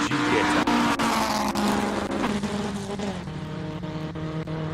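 An Alfa Romeo Giulietta Sprinter classic race car on a hillclimb run, its engine loud and close, revving hard in sharp bursts between quick gear changes, then easing slightly as it moves off.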